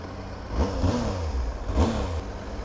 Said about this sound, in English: Would help if I turn the ignition on.